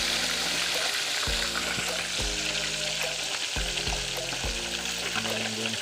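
Fish frying in a pan on a stove without coals, a steady close sizzle with several thumps and scrapes as it is turned over.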